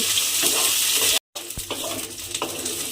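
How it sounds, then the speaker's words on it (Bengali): Boiled young jackfruit being fried and stirred in a pan, a steady close sizzle with scraping spatula strokes, broken by a brief silent gap. "এঁচোড়টা আমি এর মধ্যে দিয়ে এবারে একটু আমি ভাজা ভাজা করে নেব"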